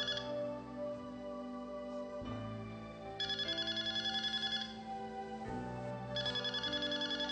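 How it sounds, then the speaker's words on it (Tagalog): A cellphone ringtone plays a repeating electronic melody with bursts of bright trilling tones, moderately loud and close, with no voices over it. "May tumatawag."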